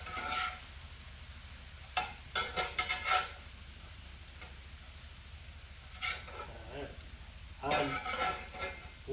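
Ground beef frying in a pan with a soft continuous sizzle, punctuated by several bursts of scraping and clattering as a utensil stirs it against the pan, fairly quiet and close.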